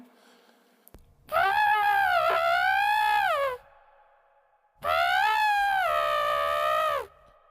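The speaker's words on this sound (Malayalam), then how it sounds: "ഒരു ആനയായിരുന്നു." An elephant trumpets twice in long, blaring, strongly voiced calls, each lasting a couple of seconds, with a short pause between. The calls are loud, close and raw over a faint background.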